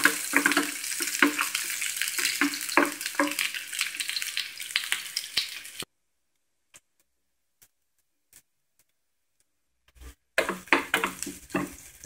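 Chopped onions frying in hot oil for sambar, a dense crackling sizzle with stirring scrapes up close, cutting to near silence with a few faint taps midway before the sizzle returns.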